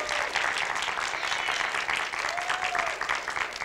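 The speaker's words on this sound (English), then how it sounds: "If you've enjoyed this rhyme, please give thunderous applause." An audience claps after a rhymed recitation, a steady moderate patter of many hands lasting several seconds without pause.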